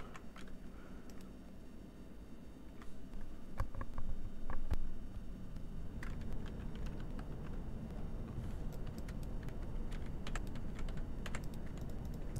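Steady clacking of a loud mechanical computer keyboard, keys struck in quick irregular bursts close by over a low background hum, with no voices.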